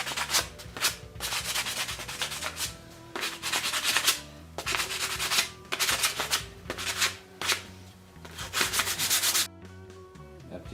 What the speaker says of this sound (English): And after you cut your piece of wood, you'll want to sand it down to get some of the edges off.